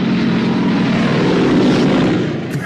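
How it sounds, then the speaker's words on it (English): German warplanes roar overhead in a Patton film scene, a loud, steady propeller-engine drone filling the whole stretch with no break. "German planes"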